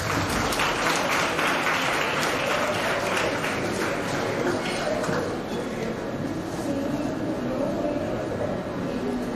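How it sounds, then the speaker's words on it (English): A conference audience at an international clinical pharmacy event claps for an attendee who spoke up, a loud, dense, sustained round of applause that fills the room for several seconds and thins slightly toward the end, with some murmuring underneath. "Please give him a round of applause."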